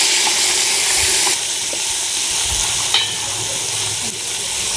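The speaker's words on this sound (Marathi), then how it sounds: "आल्याची पेस्ट आपण टाकतोय आता." Ginger paste sizzling and frying in hot oil with curry leaves during tempering for a Samvedi Brahmin-style peanut amti, a steady close crackling hiss with occasional stirring, no talk.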